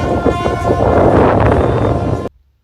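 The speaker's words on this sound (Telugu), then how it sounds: "3:55కి ట్రైన్ ఉండే, 3:53కి వచ్చింది, టైంకి వచ్చేసింది" A train rumbles loudly and close by, arriving at platform 1 of Coimbatore Junction, with a heavy, steady roar of wheels and carriages, then the sound cuts off abruptly near the end.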